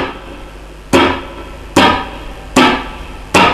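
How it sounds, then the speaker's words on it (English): A guitar chop, a palm-muted percussive strum, lands four times at a steady rhythm, each a sharp close attack that fades quickly over a low background hum. "Okay, so that's the chop, that's how it works."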